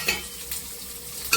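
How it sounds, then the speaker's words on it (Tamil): Cumin and crushed garlic sizzle in hot oil during tempering for a sundakkai dal curry, a steady close frying hiss with a faint stir or clink near the start and end. "இது சீரகம் பொரிஞ்ச உடனே நம்ம கொஞ்சம் பூண்டு இடிச்சு வச்சுக்கிறோம் இல்லையா, அதையும் போட்டுக்கணும்"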